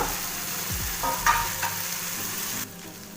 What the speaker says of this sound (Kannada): ಟೊಮೊಟೊ ಎಲ್ಲ ಚೆನ್ನಾಗಿ ಫ್ರೈ ಮಾಡಿ 2 ನಿಮಿಷ ಚೆನ್ನಾಗಿ ಬೇಯೋದಕ್ಕೆ ಬಿಡೋಣ.